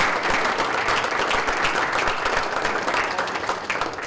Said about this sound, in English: Let's have a round of applause to recognize all of our recipients.